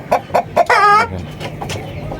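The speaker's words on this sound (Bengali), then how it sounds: "ও যাওয়া একটা মোরগ" A rooster gives three short, close clucks followed by a longer, drawn-out call, then quieter background sound.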